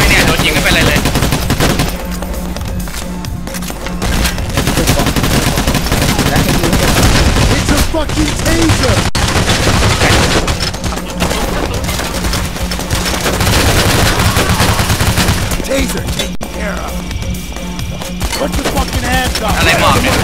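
Gunfire in the game PAYDAY The Heist comes as loud, dense bursts of rapid automatic shots in repeated volleys, with short gaps and voices underneath.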